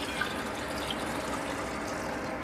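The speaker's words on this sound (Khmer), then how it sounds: "មកខ្ញុំធ្វើការចាក់ទឹក" Water splashes and gurgles steadily into a pot, a continuous close pouring sound with no talking.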